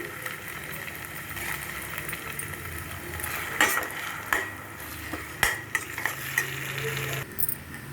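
Eggs with onion frying and being stirred in a pan, a steady sizzle with scraping and clinks of the utensil against the pan, close by and without talk.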